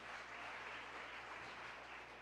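A church congregation claps during a preaching service, a steady, dense wash of applause that holds evenly throughout and sounds somewhat distant and subdued, with no talk over it.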